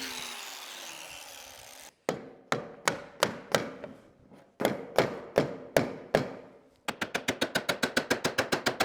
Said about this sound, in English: see if we can tap that electrical conduit collar over it.